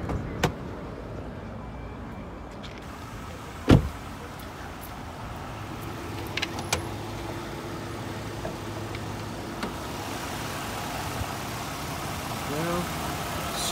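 A 2009 Lexus RX 350 engine idles smoothly and quietly under the hood, a low steady hum with a few faint clicks and knocks over it.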